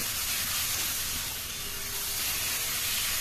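Chicken pieces sauté with spices in a hot pan for a dhaba-style chicken tadka, giving a loud, steady sizzling hiss that holds evenly throughout with no talking.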